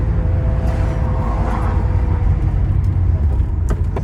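A 1986 Porsche Turbo-look Targa drives with a steady low engine drone from inside the car as it downshifts through the gears, with faint clicks and talk over the engine.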